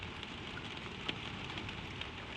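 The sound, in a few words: gentle rain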